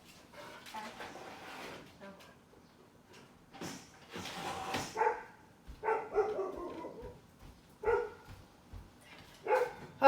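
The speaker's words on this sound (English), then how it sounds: "I'm going to let my dog out." A dog let outside barks in short bursts, several sharp barks spaced irregularly and growing more frequent toward the end, heard at moderate distance amid scuffs and clatter, with brief talk early on.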